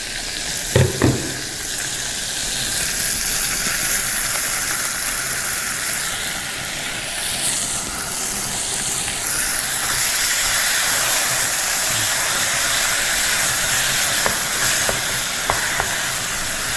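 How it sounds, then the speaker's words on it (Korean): Pork and kimchi stir-frying in a pan for kimchi stew, a loud, continuous sizzle with hissing steam and occasional clanks of a utensil scraping and stirring close by. "그리고 계속 볶아주세요."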